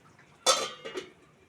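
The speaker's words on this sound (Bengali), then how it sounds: "এইবার ঢাকা দিয়ে দেবো" A lid goes onto a pan of lote fish cooking, landing with a sharp metallic clank and then a smaller rattle as it settles, close by with no talk.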